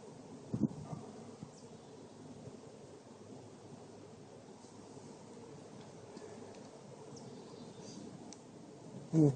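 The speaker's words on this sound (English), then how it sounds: "There are certainly a lot of bees." Bees swarm around an opened wooden hive box, their buzzing a steady, low, fairly faint hum that runs unbroken throughout with no talking.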